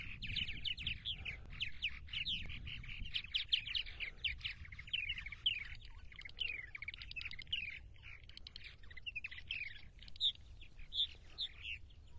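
Purple martins on eastern Long Island, New York chirp and warble steadily throughout, a dense, continuous chatter of many birds close by, with a low rumble of wind or traffic underneath and no talking.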